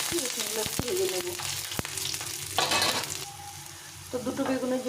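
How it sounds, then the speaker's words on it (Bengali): A handful of garlic cloves frying in hot oil in a pan, close sizzling with stirring clinks and taps, one louder crackling surge midway, then settling into a steady fry. "এখন এই তেলে 1 মুঠো রসুন নিয়েছি, রসুনগুলো একটু ভেজে নেব।"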